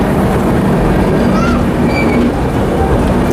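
The Barauni–Gondia Express rolls past on the adjacent track, overtaking a stationary train near Raipur, a loud steady rumble of wheels and carriages heard close by with faint squeals.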